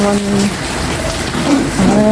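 Steady rain patters on an umbrella covering a washing machine outdoors, under a continuous hum, with brief tonal sounds drifting in and out.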